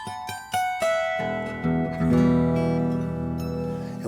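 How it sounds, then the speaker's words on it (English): A harp guitar, a six-string guitar neck paired with fourteen harp strings, is plucked up close: a few crisp single notes first, then ringing chords that build and sustain loudly, with no voices. "This is a harp guitar. It sounds like this."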